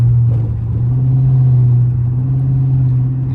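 Catless Dodge Charger R/T exhaust droning loudly and steadily up close, a deep constant engine rumble with slight swells but no distinct pops standing out.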